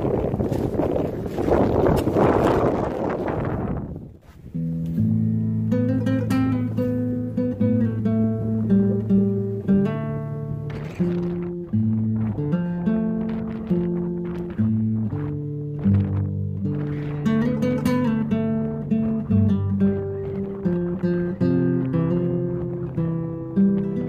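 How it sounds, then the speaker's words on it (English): Strong wind buffets a microphone while fishing for redbreast, a loud, gusty roar for a few seconds before steady tonal music takes over. "It's very, very windy."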